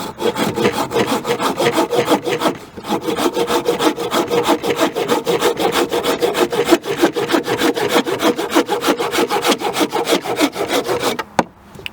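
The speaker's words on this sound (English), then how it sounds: "here's the Corona folding saw" A Corona folding saw cuts through wood in steady, rapid back-and-forth strokes, loud and close, with one brief pause near the third second and a stop just before the end; no one speaks.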